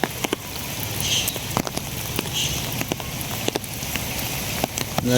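Light rain falls as a few scattered drops, faint steady patter under occasional crisp ticks and taps close by, no voices present.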